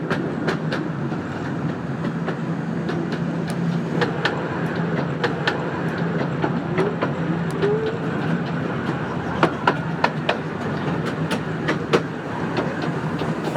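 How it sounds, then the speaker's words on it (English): Steady rumble and rhythmic clickety-clack of a small steam railway's tiny old carriage rolling along the track, heard from inside, with sharp periodic wheel clicks over continuous low running noise. "Just the smell and the noise of the steam and being in that tiny little old carriage"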